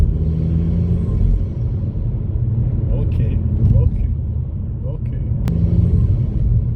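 A Mk5 Golf GTI with a not-yet-warm engine is driven gently on light throttle. Its steady low engine and road rumble fills the cabin, and a brief word is spoken over it.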